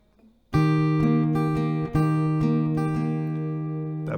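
An acoustic guitar rings out clear sustained notes, a low open string held under a steady sequence of plucked higher notes, close and alone, fading slowly at the end.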